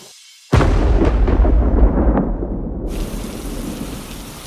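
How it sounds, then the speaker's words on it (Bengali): Heavy rain starts abruptly with a deep rumble of thunder in a Bengali fairy-tale cartoon, a loud steady downpour that rolls on and gradually eases, with no talk. "আবার বৃষ্টি পড়া শুরু হলো"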